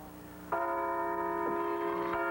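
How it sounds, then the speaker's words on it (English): Large replica Liberty Bells ring out in a sustained, humming peal at Independence Hall, each new strike swelling the tone, heard steadily from a moderate distance. "Bicentennial bells, replicas of the original Liberty Bell, rang out at Independence Hall"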